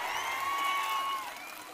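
A political rally crowd gives a steady wash of clapping and cheering with high whistles, distant and sustained, fading slightly toward the end.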